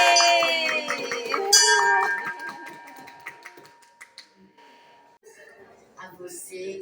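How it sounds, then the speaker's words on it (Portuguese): A bell rings in a bright, clear series of strikes that sound near at first and then fade. People cheer and chatter around it, with a few claps and a voice rising at the start. "Regina, pode tocar o sino."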